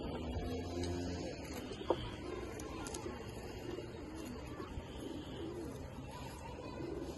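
Giribaz pigeons in a loft make soft, low cooing against a steady murmur of background noise, with a single sharp tap near the start.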